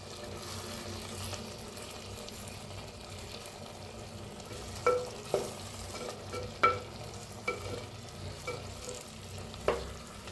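Stuffed tomatoes softening in a pan over low heat, cooked without added water, are turned with a utensil, giving quiet scrapes and occasional sharp taps over a steady, gentle sizzle.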